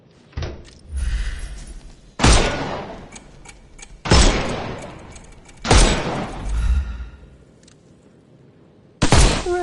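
Gunfire in the video game Sherlock Holmes Chapter One, shooting the armour off enemies: five loud, separate impact bursts ring out a couple of seconds apart, each decaying with a rumble.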